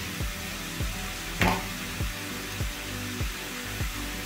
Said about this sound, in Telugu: ఆనియన్స్ అయితే వేగడానికి కొంచెం సాల్ట్ వేసుకుందామండి